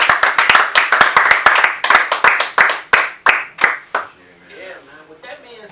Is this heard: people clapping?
yes